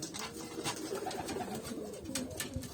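A male pigeon coos in a coop, soft repeated throaty rolling calls close by, with faint fluttering and rustling around it and no talk.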